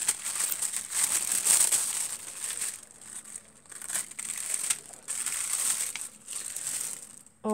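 Delicate, thin wrapping paper is crinkled and rustled while a parcel is unwrapped, a continuous close-up crackling with brief pauses, no talk over it.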